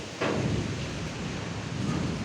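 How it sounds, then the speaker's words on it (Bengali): A thunderstorm roars in abruptly, a dense rumbling wash of noise with a rain-like hiss that stays loud and constant throughout. "কী পরিমাণে আমাদের এখানে ঝড় হচ্ছে দেখো"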